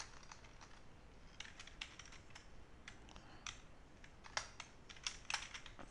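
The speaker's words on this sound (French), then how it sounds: "j'écris nom, Toto" Rapid, faint clicking of computer keyboard keys as text is entered into code, irregular bursts of taps close to the microphone against a quiet background.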